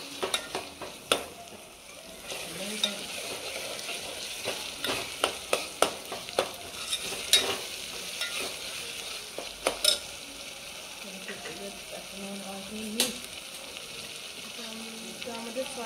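Tomato and thecha, a crushed chili paste, are stirred in a hot pan for a Vidarbha-style vegetable dish. A low sizzle runs under repeated sharp scrapes and taps of the spoon against the pan, at an uneven rhythm.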